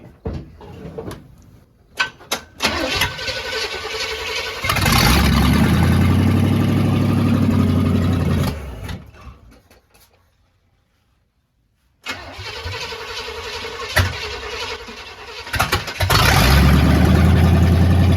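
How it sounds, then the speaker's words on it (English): A Jeep with a swapped Chevrolet small-block V8 cranks and roars to life, revving loudly, dies into silence, then is started again and revs up, nearby and loud. "Let's keep watching him start this Jeep."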